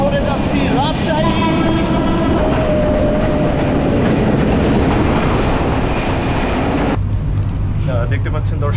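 Train rolling along rails toward Rajshahi, heard from inside a carriage with small cabins: steady loud rumble and clatter throughout, with a long thin wheel squeal early on and voices talking over the noise.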